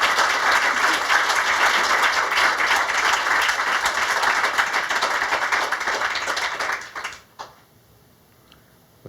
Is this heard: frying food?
no